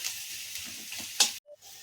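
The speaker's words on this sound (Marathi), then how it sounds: "याला लालसर होईपर्यंत साधारणतः तळून घ्यायचे आहे" Onion and garlic sizzle in a small amount of oil for veg manchurian, a steady soft frying hiss with a brief louder crackle near the end before it cuts out.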